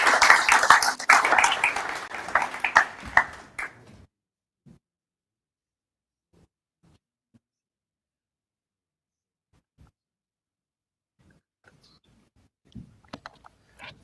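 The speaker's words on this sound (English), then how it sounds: "let's give a round of applause to the MEC" Audience applause for a provincial MEC at a river management programme handover event, a burst of clapping lasting about four seconds that cuts off abruptly, followed by near silence with a few faint scattered knocks and rustles.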